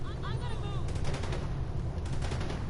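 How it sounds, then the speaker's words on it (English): Rapid assault rifle fire from the shooter game The Division 2 rattles in quick automatic bursts over a dense background of game noise, with a voice talking faintly underneath. "That's just me just like shooting wildly"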